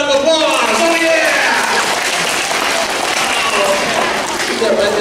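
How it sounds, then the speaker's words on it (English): Loud school-assembly audience applause fills the room for Kool-Aid, a dense wash of clapping with cheering voices and a kid-crowd roar over it, steady and close throughout. "Let's give Kool-Aid a big round of applause"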